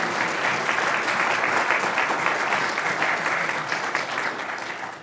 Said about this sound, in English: Let's do another round of applause for our panelists.